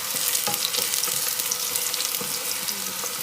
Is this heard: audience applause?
no